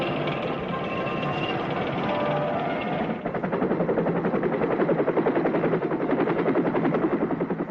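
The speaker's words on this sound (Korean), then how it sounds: "경비행기와 고성능 분무기로 농약을 살포하는 광경도 볼 수 있게 됐습니다" A light aircraft spraying pesticide over farmland drones steadily, then moves into a rapid pulsing engine throb that holds loud and continuous, with no talk.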